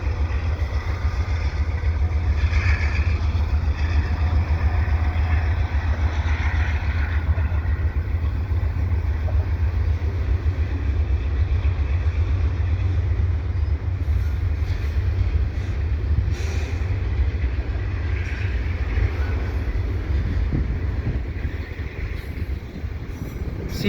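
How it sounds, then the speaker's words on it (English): A CPKC double stack freight train led by a single smoky AC4400CW locomotive rolls past at Dorval, a loud steady rumble of engine and wagons holding constant throughout with no talking. "double stack train here at Dorval"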